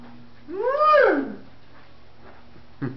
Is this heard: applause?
no